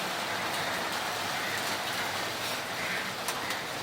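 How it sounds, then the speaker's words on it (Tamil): Steady rain pours down during a journey around Gummudipoondi, a dense, even hiss that fills the whole stretch at moderate loudness with no voices over it. "இந்த மாதிரி மழை பெய்ய ஆரம்பிச்சிச்சு"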